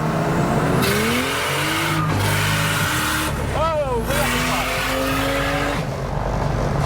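A single-turbo N54 BMW 335i race car engine roars and whines at high revs, the pitch sweeping up and down before it blows up and sputters, with a voice exclaiming briefly over the noise.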